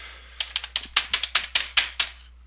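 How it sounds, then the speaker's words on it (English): Hard, heavy keystrokes on a computer keyboard: about a dozen loud, sharp clacks in quick uneven succession, close up and alone, ending abruptly. "I always type like I'm banging on the damn things."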